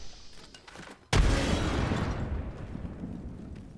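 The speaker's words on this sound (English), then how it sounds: "Throwing frag." A frag grenade goes off in Apex Legends on the Olympus map: a sudden loud close blast that drops from quiet into a long rumbling roar and slowly fades.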